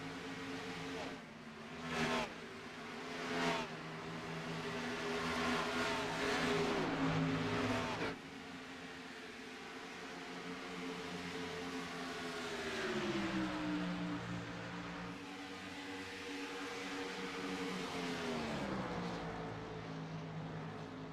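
Race cars at a Rivalz Blacktop stock car event in Michigan roar around the racetrack, engines droning and shifting pitch continuously as the field passes, with loud bursts early on and a steady, sweeping engine tone throughout.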